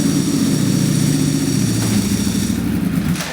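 Steady deep drone of a Ducati Panigale V4 Superleggera engine running on a dyno, loud and close with a low throbbing hum that holds throughout.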